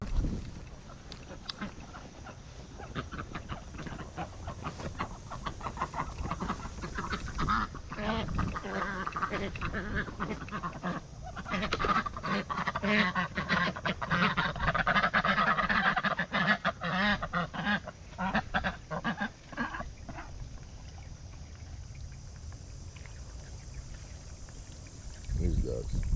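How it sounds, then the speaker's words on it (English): Ducks quack and honk close by on a morning walk among backyard fowl, a busy, rough, gargling chorus that swells in the middle, mixed with a person talking and handling noises. "These ducks."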